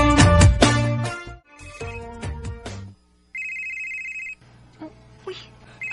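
A mobile phone rings with an incoming call, a bright electronic ringtone melody looping loudly, then dropping to a quieter repeated tone before a short faint pattern.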